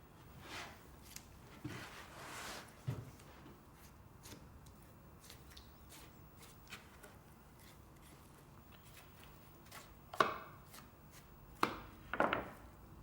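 A knife works along the natural seam between the muscles to free the last bone from the shank of a pork leg. Faint, sporadic scraping and cutting strokes, with a few sharper ticks near the end and no talk.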